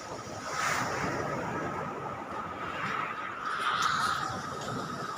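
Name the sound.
sea waves on the shore at Bucana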